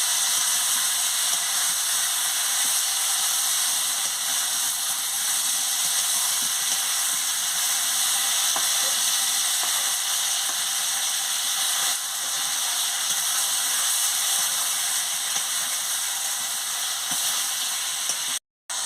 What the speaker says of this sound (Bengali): মশলার সঙ্গে ফুলকপি আর আলুটা কষিয়ে নিচ্ছি